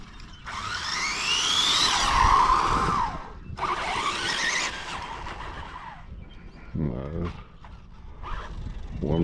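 A Traxxas Slash 8s RC car's tires spin and squeal as it skids, loud rising and falling screeches with motor whine in bursts, then a quieter pause and a shorter final burst.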